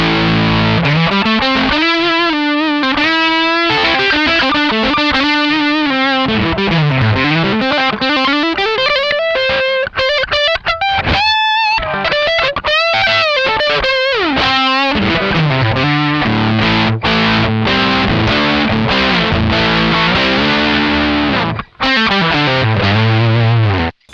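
An electric guitar through a Way Huge Camel Toe Triple Overdrive MkII pedal with all controls at noon plays a loud, continuous, gritty melodic riff with sliding notes and bends, briefly cutting out near the end.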